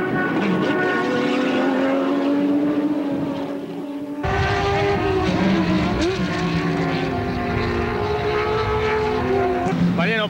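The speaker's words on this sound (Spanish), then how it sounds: "Mariano, primeras vueltas aquí en La Plata antes de esta nueva fecha del Turismo Carretera" A Turismo Carretera race car lapping the La Plata circuit, its engine roaring loudly and continuously with rising and falling pitch through gear changes, up close and filling the whole stretch.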